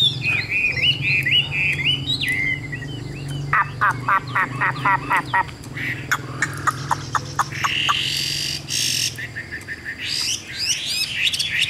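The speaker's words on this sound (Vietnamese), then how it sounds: "Hót rất là bệt cầu các bác nhé, đứng hót từ nãy giờ rồi" Caged songbird with a yellow beak singing at length, loud and close: rapid varied chirps and whistles, then a run of evenly spaced sharp notes and fast trills, with a low steady hum underneath.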